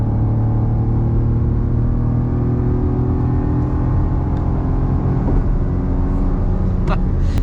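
A 2024 Maruti Swift AMT engine drones steadily from inside the cabin, a loud, even hum as the car slows and the gearbox drops down to third gear.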